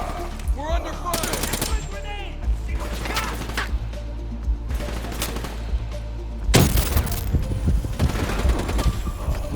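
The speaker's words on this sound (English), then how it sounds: "We're under fire!" Gunfire in the Black Ops 3 campaign, loud bursts of automatic fire and scattered shots, close and dense, mixed with crashes, clatter and battle noise, with a voice heard briefly.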